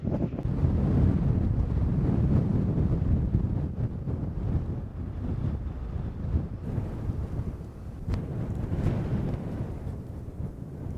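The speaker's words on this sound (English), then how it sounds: "It is very windy." Strong wind buffets the microphone outdoors along a ridge in Montana, a loud continuous rumbling roar that eases slightly toward the end, with no voices.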